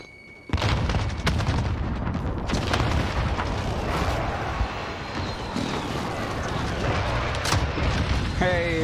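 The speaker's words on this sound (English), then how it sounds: "Enemy precision airstrike inbound." Precision airstrike blasts in a Call of Duty style shooter, a dense barrage of loud booming explosions rolling continuously after a sudden onset, with game audio and faint voices mixed in.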